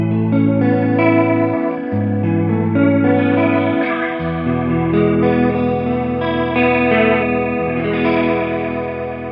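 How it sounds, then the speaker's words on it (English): Electric guitar through a Fender Hammertone Chorus pedal, giving a rotary, Leslie-like swirl to held chords that shift every couple of seconds, loud and continuous without any voice. "Sounds quite Leslie, quite rotary."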